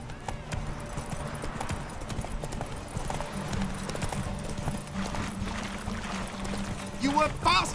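Horse galloping in The Witcher 3, continuous rhythmic hoofbeats close by, with spoken game dialogue over them.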